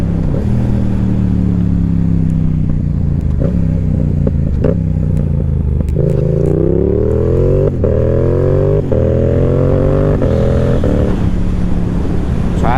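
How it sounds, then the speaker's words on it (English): A Yamaha R7 motorcycle heading to a cars and coffee meet roars loudly up close, downshifting with quick blips and then accelerating hard through rising gear pulls over steady engine drone. "I had to let you guys get the downshift and acceleration."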